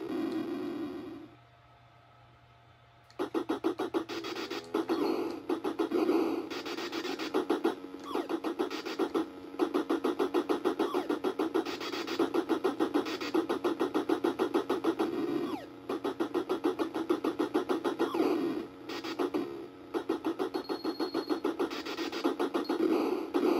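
The car engine in the Nintendo game Spy Hunter starts after a brief quiet stretch, then holds as a continuous buzzy chiptune drone with slight pulsing, loud and steady throughout.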